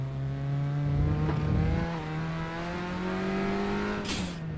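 An Abarth 500 Assetto Corsa engine in the netKar Pro racing simulator drones steadily at high revs, at times over-revved, its pitch shifting slightly through gear changes, with a brief burst of noise near the end.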